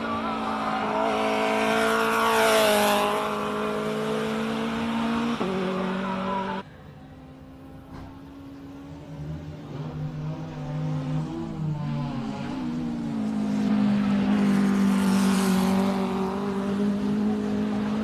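A Honda Civic Type R races up a hill climb, its engine revving hard through gear changes, passing close and loud, then dropping away before surging back as it climbs.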